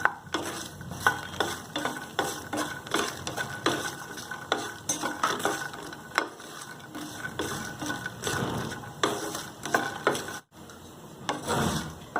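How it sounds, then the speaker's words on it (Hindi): Makhana (fox nuts) are fried in a pan, stirred briskly with rapid rhythmic scraping and rattling of the spoon against the metal, over a faint sizzle, with a brief pause near the end. "अब हम इसी पैन में हम ऐड करेंगे हमारा मखाना। जस्ट इसे भी हमें 20 से 30 सेकंड तक फ्राई कर लेना है।"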